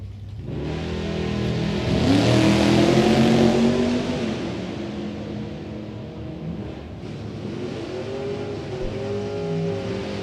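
Drag racing cars, including a '70 Nova and a little Monza, launch hard at the Sportsnational Open, a loud surging engine roar with rising revs and tonal whine that fades and builds again.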